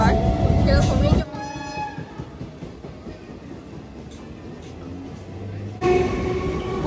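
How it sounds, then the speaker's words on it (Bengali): A train arrives at a railway station. Loud horn blasts open and close the sound, with the rumble and clatter of rolling carriages between them, heard up close. "15 মিনিট দেরি করেছে ট্রেন,"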